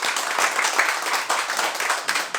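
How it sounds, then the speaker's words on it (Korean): Applause from an audience at a small gathering of rhythm dance enthusiasts, brisk and dense clapping kept up steadily throughout, with no voices. "다시 한번 박수 한번 주세요"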